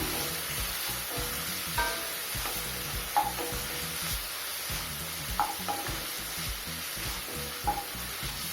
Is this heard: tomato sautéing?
yes